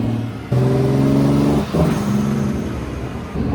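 Turbocharged BMW E36 323 engine on a dyno, revving loudly and steadily against a 3000 RPM limiter with a sustained harmonic drone, a brief dip in the middle, then resuming close and loud.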